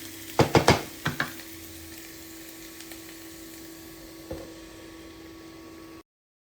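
Onions cooking down to a caramelized, candied softness in a pan give a steady low sizzle, with a few sharp stirring clicks early on and one faint knock later, no voices.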